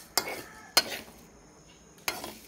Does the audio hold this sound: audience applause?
no